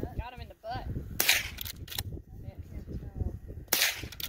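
During a family Sunday target-shooting session, two sharp, bright gunshots ring out about two and a half seconds apart, with children and adults talking in between and around them.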